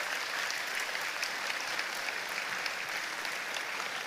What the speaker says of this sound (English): Everybody give a round of applause for being in the same place at one time.